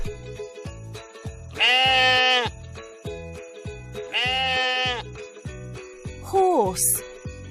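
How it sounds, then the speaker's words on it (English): A sheep gives two drawn-out, wavering bleats over a bouncy jingling backing tune, followed by a shorter bleat near the end. "sheep,"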